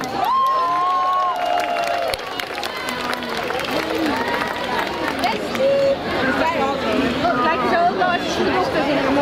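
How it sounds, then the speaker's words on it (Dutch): A crowd at the Strandwal beach festival cheers and claps for an 11-year-old, a lively outdoor mix of whoops and scattered applause under overlapping voices and chatter. "Hartelijk applaus voor Naomi."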